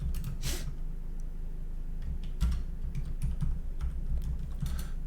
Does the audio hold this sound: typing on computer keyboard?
yes